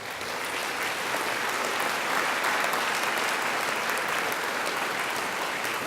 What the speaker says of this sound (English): And now I'd like you to give them a mighty round of applause.